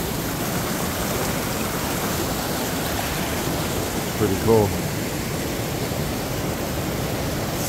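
A waterfall near a hiking trail by Blue Jay Campground pours in a steady, loud hissing roar. Someone speaks briefly over it midway.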